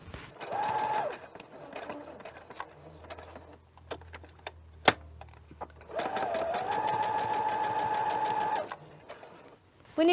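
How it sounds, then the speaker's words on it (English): Sewing machine running in two bursts as it stitches the top and bottom seam of a fabric mask a quarter inch from the edge, a steady close whirring hum with a short pause and a sharp click between runs. "Now I'm going to sew the seam on the top and bottom, 1/4 inch from the edge again"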